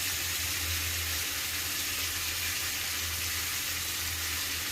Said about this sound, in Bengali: এবার দিয়ে দিচ্ছি বেটে রাখা মশলা।